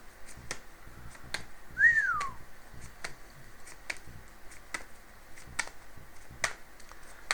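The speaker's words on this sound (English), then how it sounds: "I got an impatient parrot here." A single clear whistle, rising then falling, sounds from a parrot amid a steady run of light clicks and taps.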